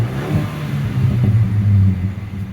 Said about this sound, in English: here in the Roush, you're going to get a Roush exhaust